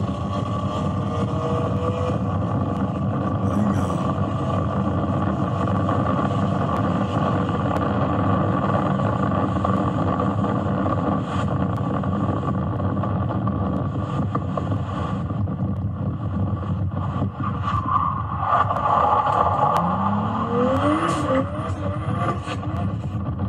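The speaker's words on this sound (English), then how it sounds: "Here's a 500 horsepower 240 SX that runs from the cops after his street race with a Camaro." Nissan 240SX with 500 horsepower fleeing police after a street race with a Camaro, a sustained engine drone heard through heavy wind rush, steady and loud throughout.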